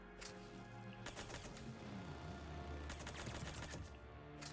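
A player's gun fires in the Mass Effect 3 shooter, bursts of rapid shots repeating over a steady din of combat noise and music, loud and close throughout.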